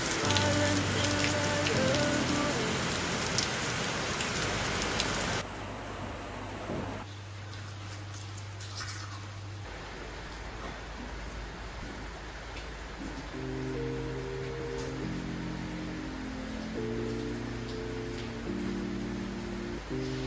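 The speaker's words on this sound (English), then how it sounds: "it's another rainy day and it's really raining seriously today." Heavy rain falls steadily on surfaces, a dense patter of drops throughout, with faint background tones and no speech.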